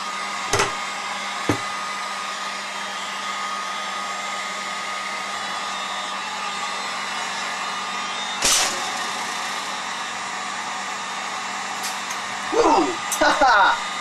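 Hot air gun heating an electronic circuit board, a steady continuous blowing hiss with a faint hum that runs the whole time, broken by a few sharp clicks and some clattering near the end.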